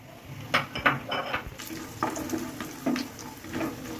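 Biuli dal bori frying in hot oil in a kadai over a gas flame, a soft steady sizzle broken by a few sharper clatters and stirring knocks, fairly close.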